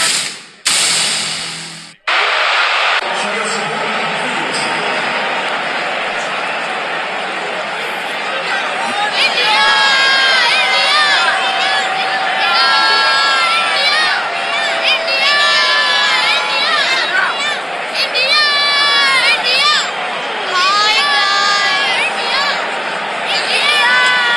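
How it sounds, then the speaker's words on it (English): Large crowd at a cricket ground during an India versus Australia Test match, with many Indian supporters; a steady roar of chatter and cheering with bursts of shouts and whistles, continuous throughout. "Nice crowds around the ground. Quite a lot of Indian supporters, actually."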